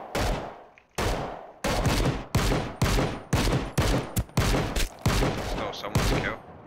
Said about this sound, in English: Getting shot at like crazy right now.